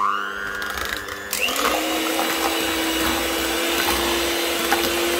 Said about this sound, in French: on va fouetter un petit peu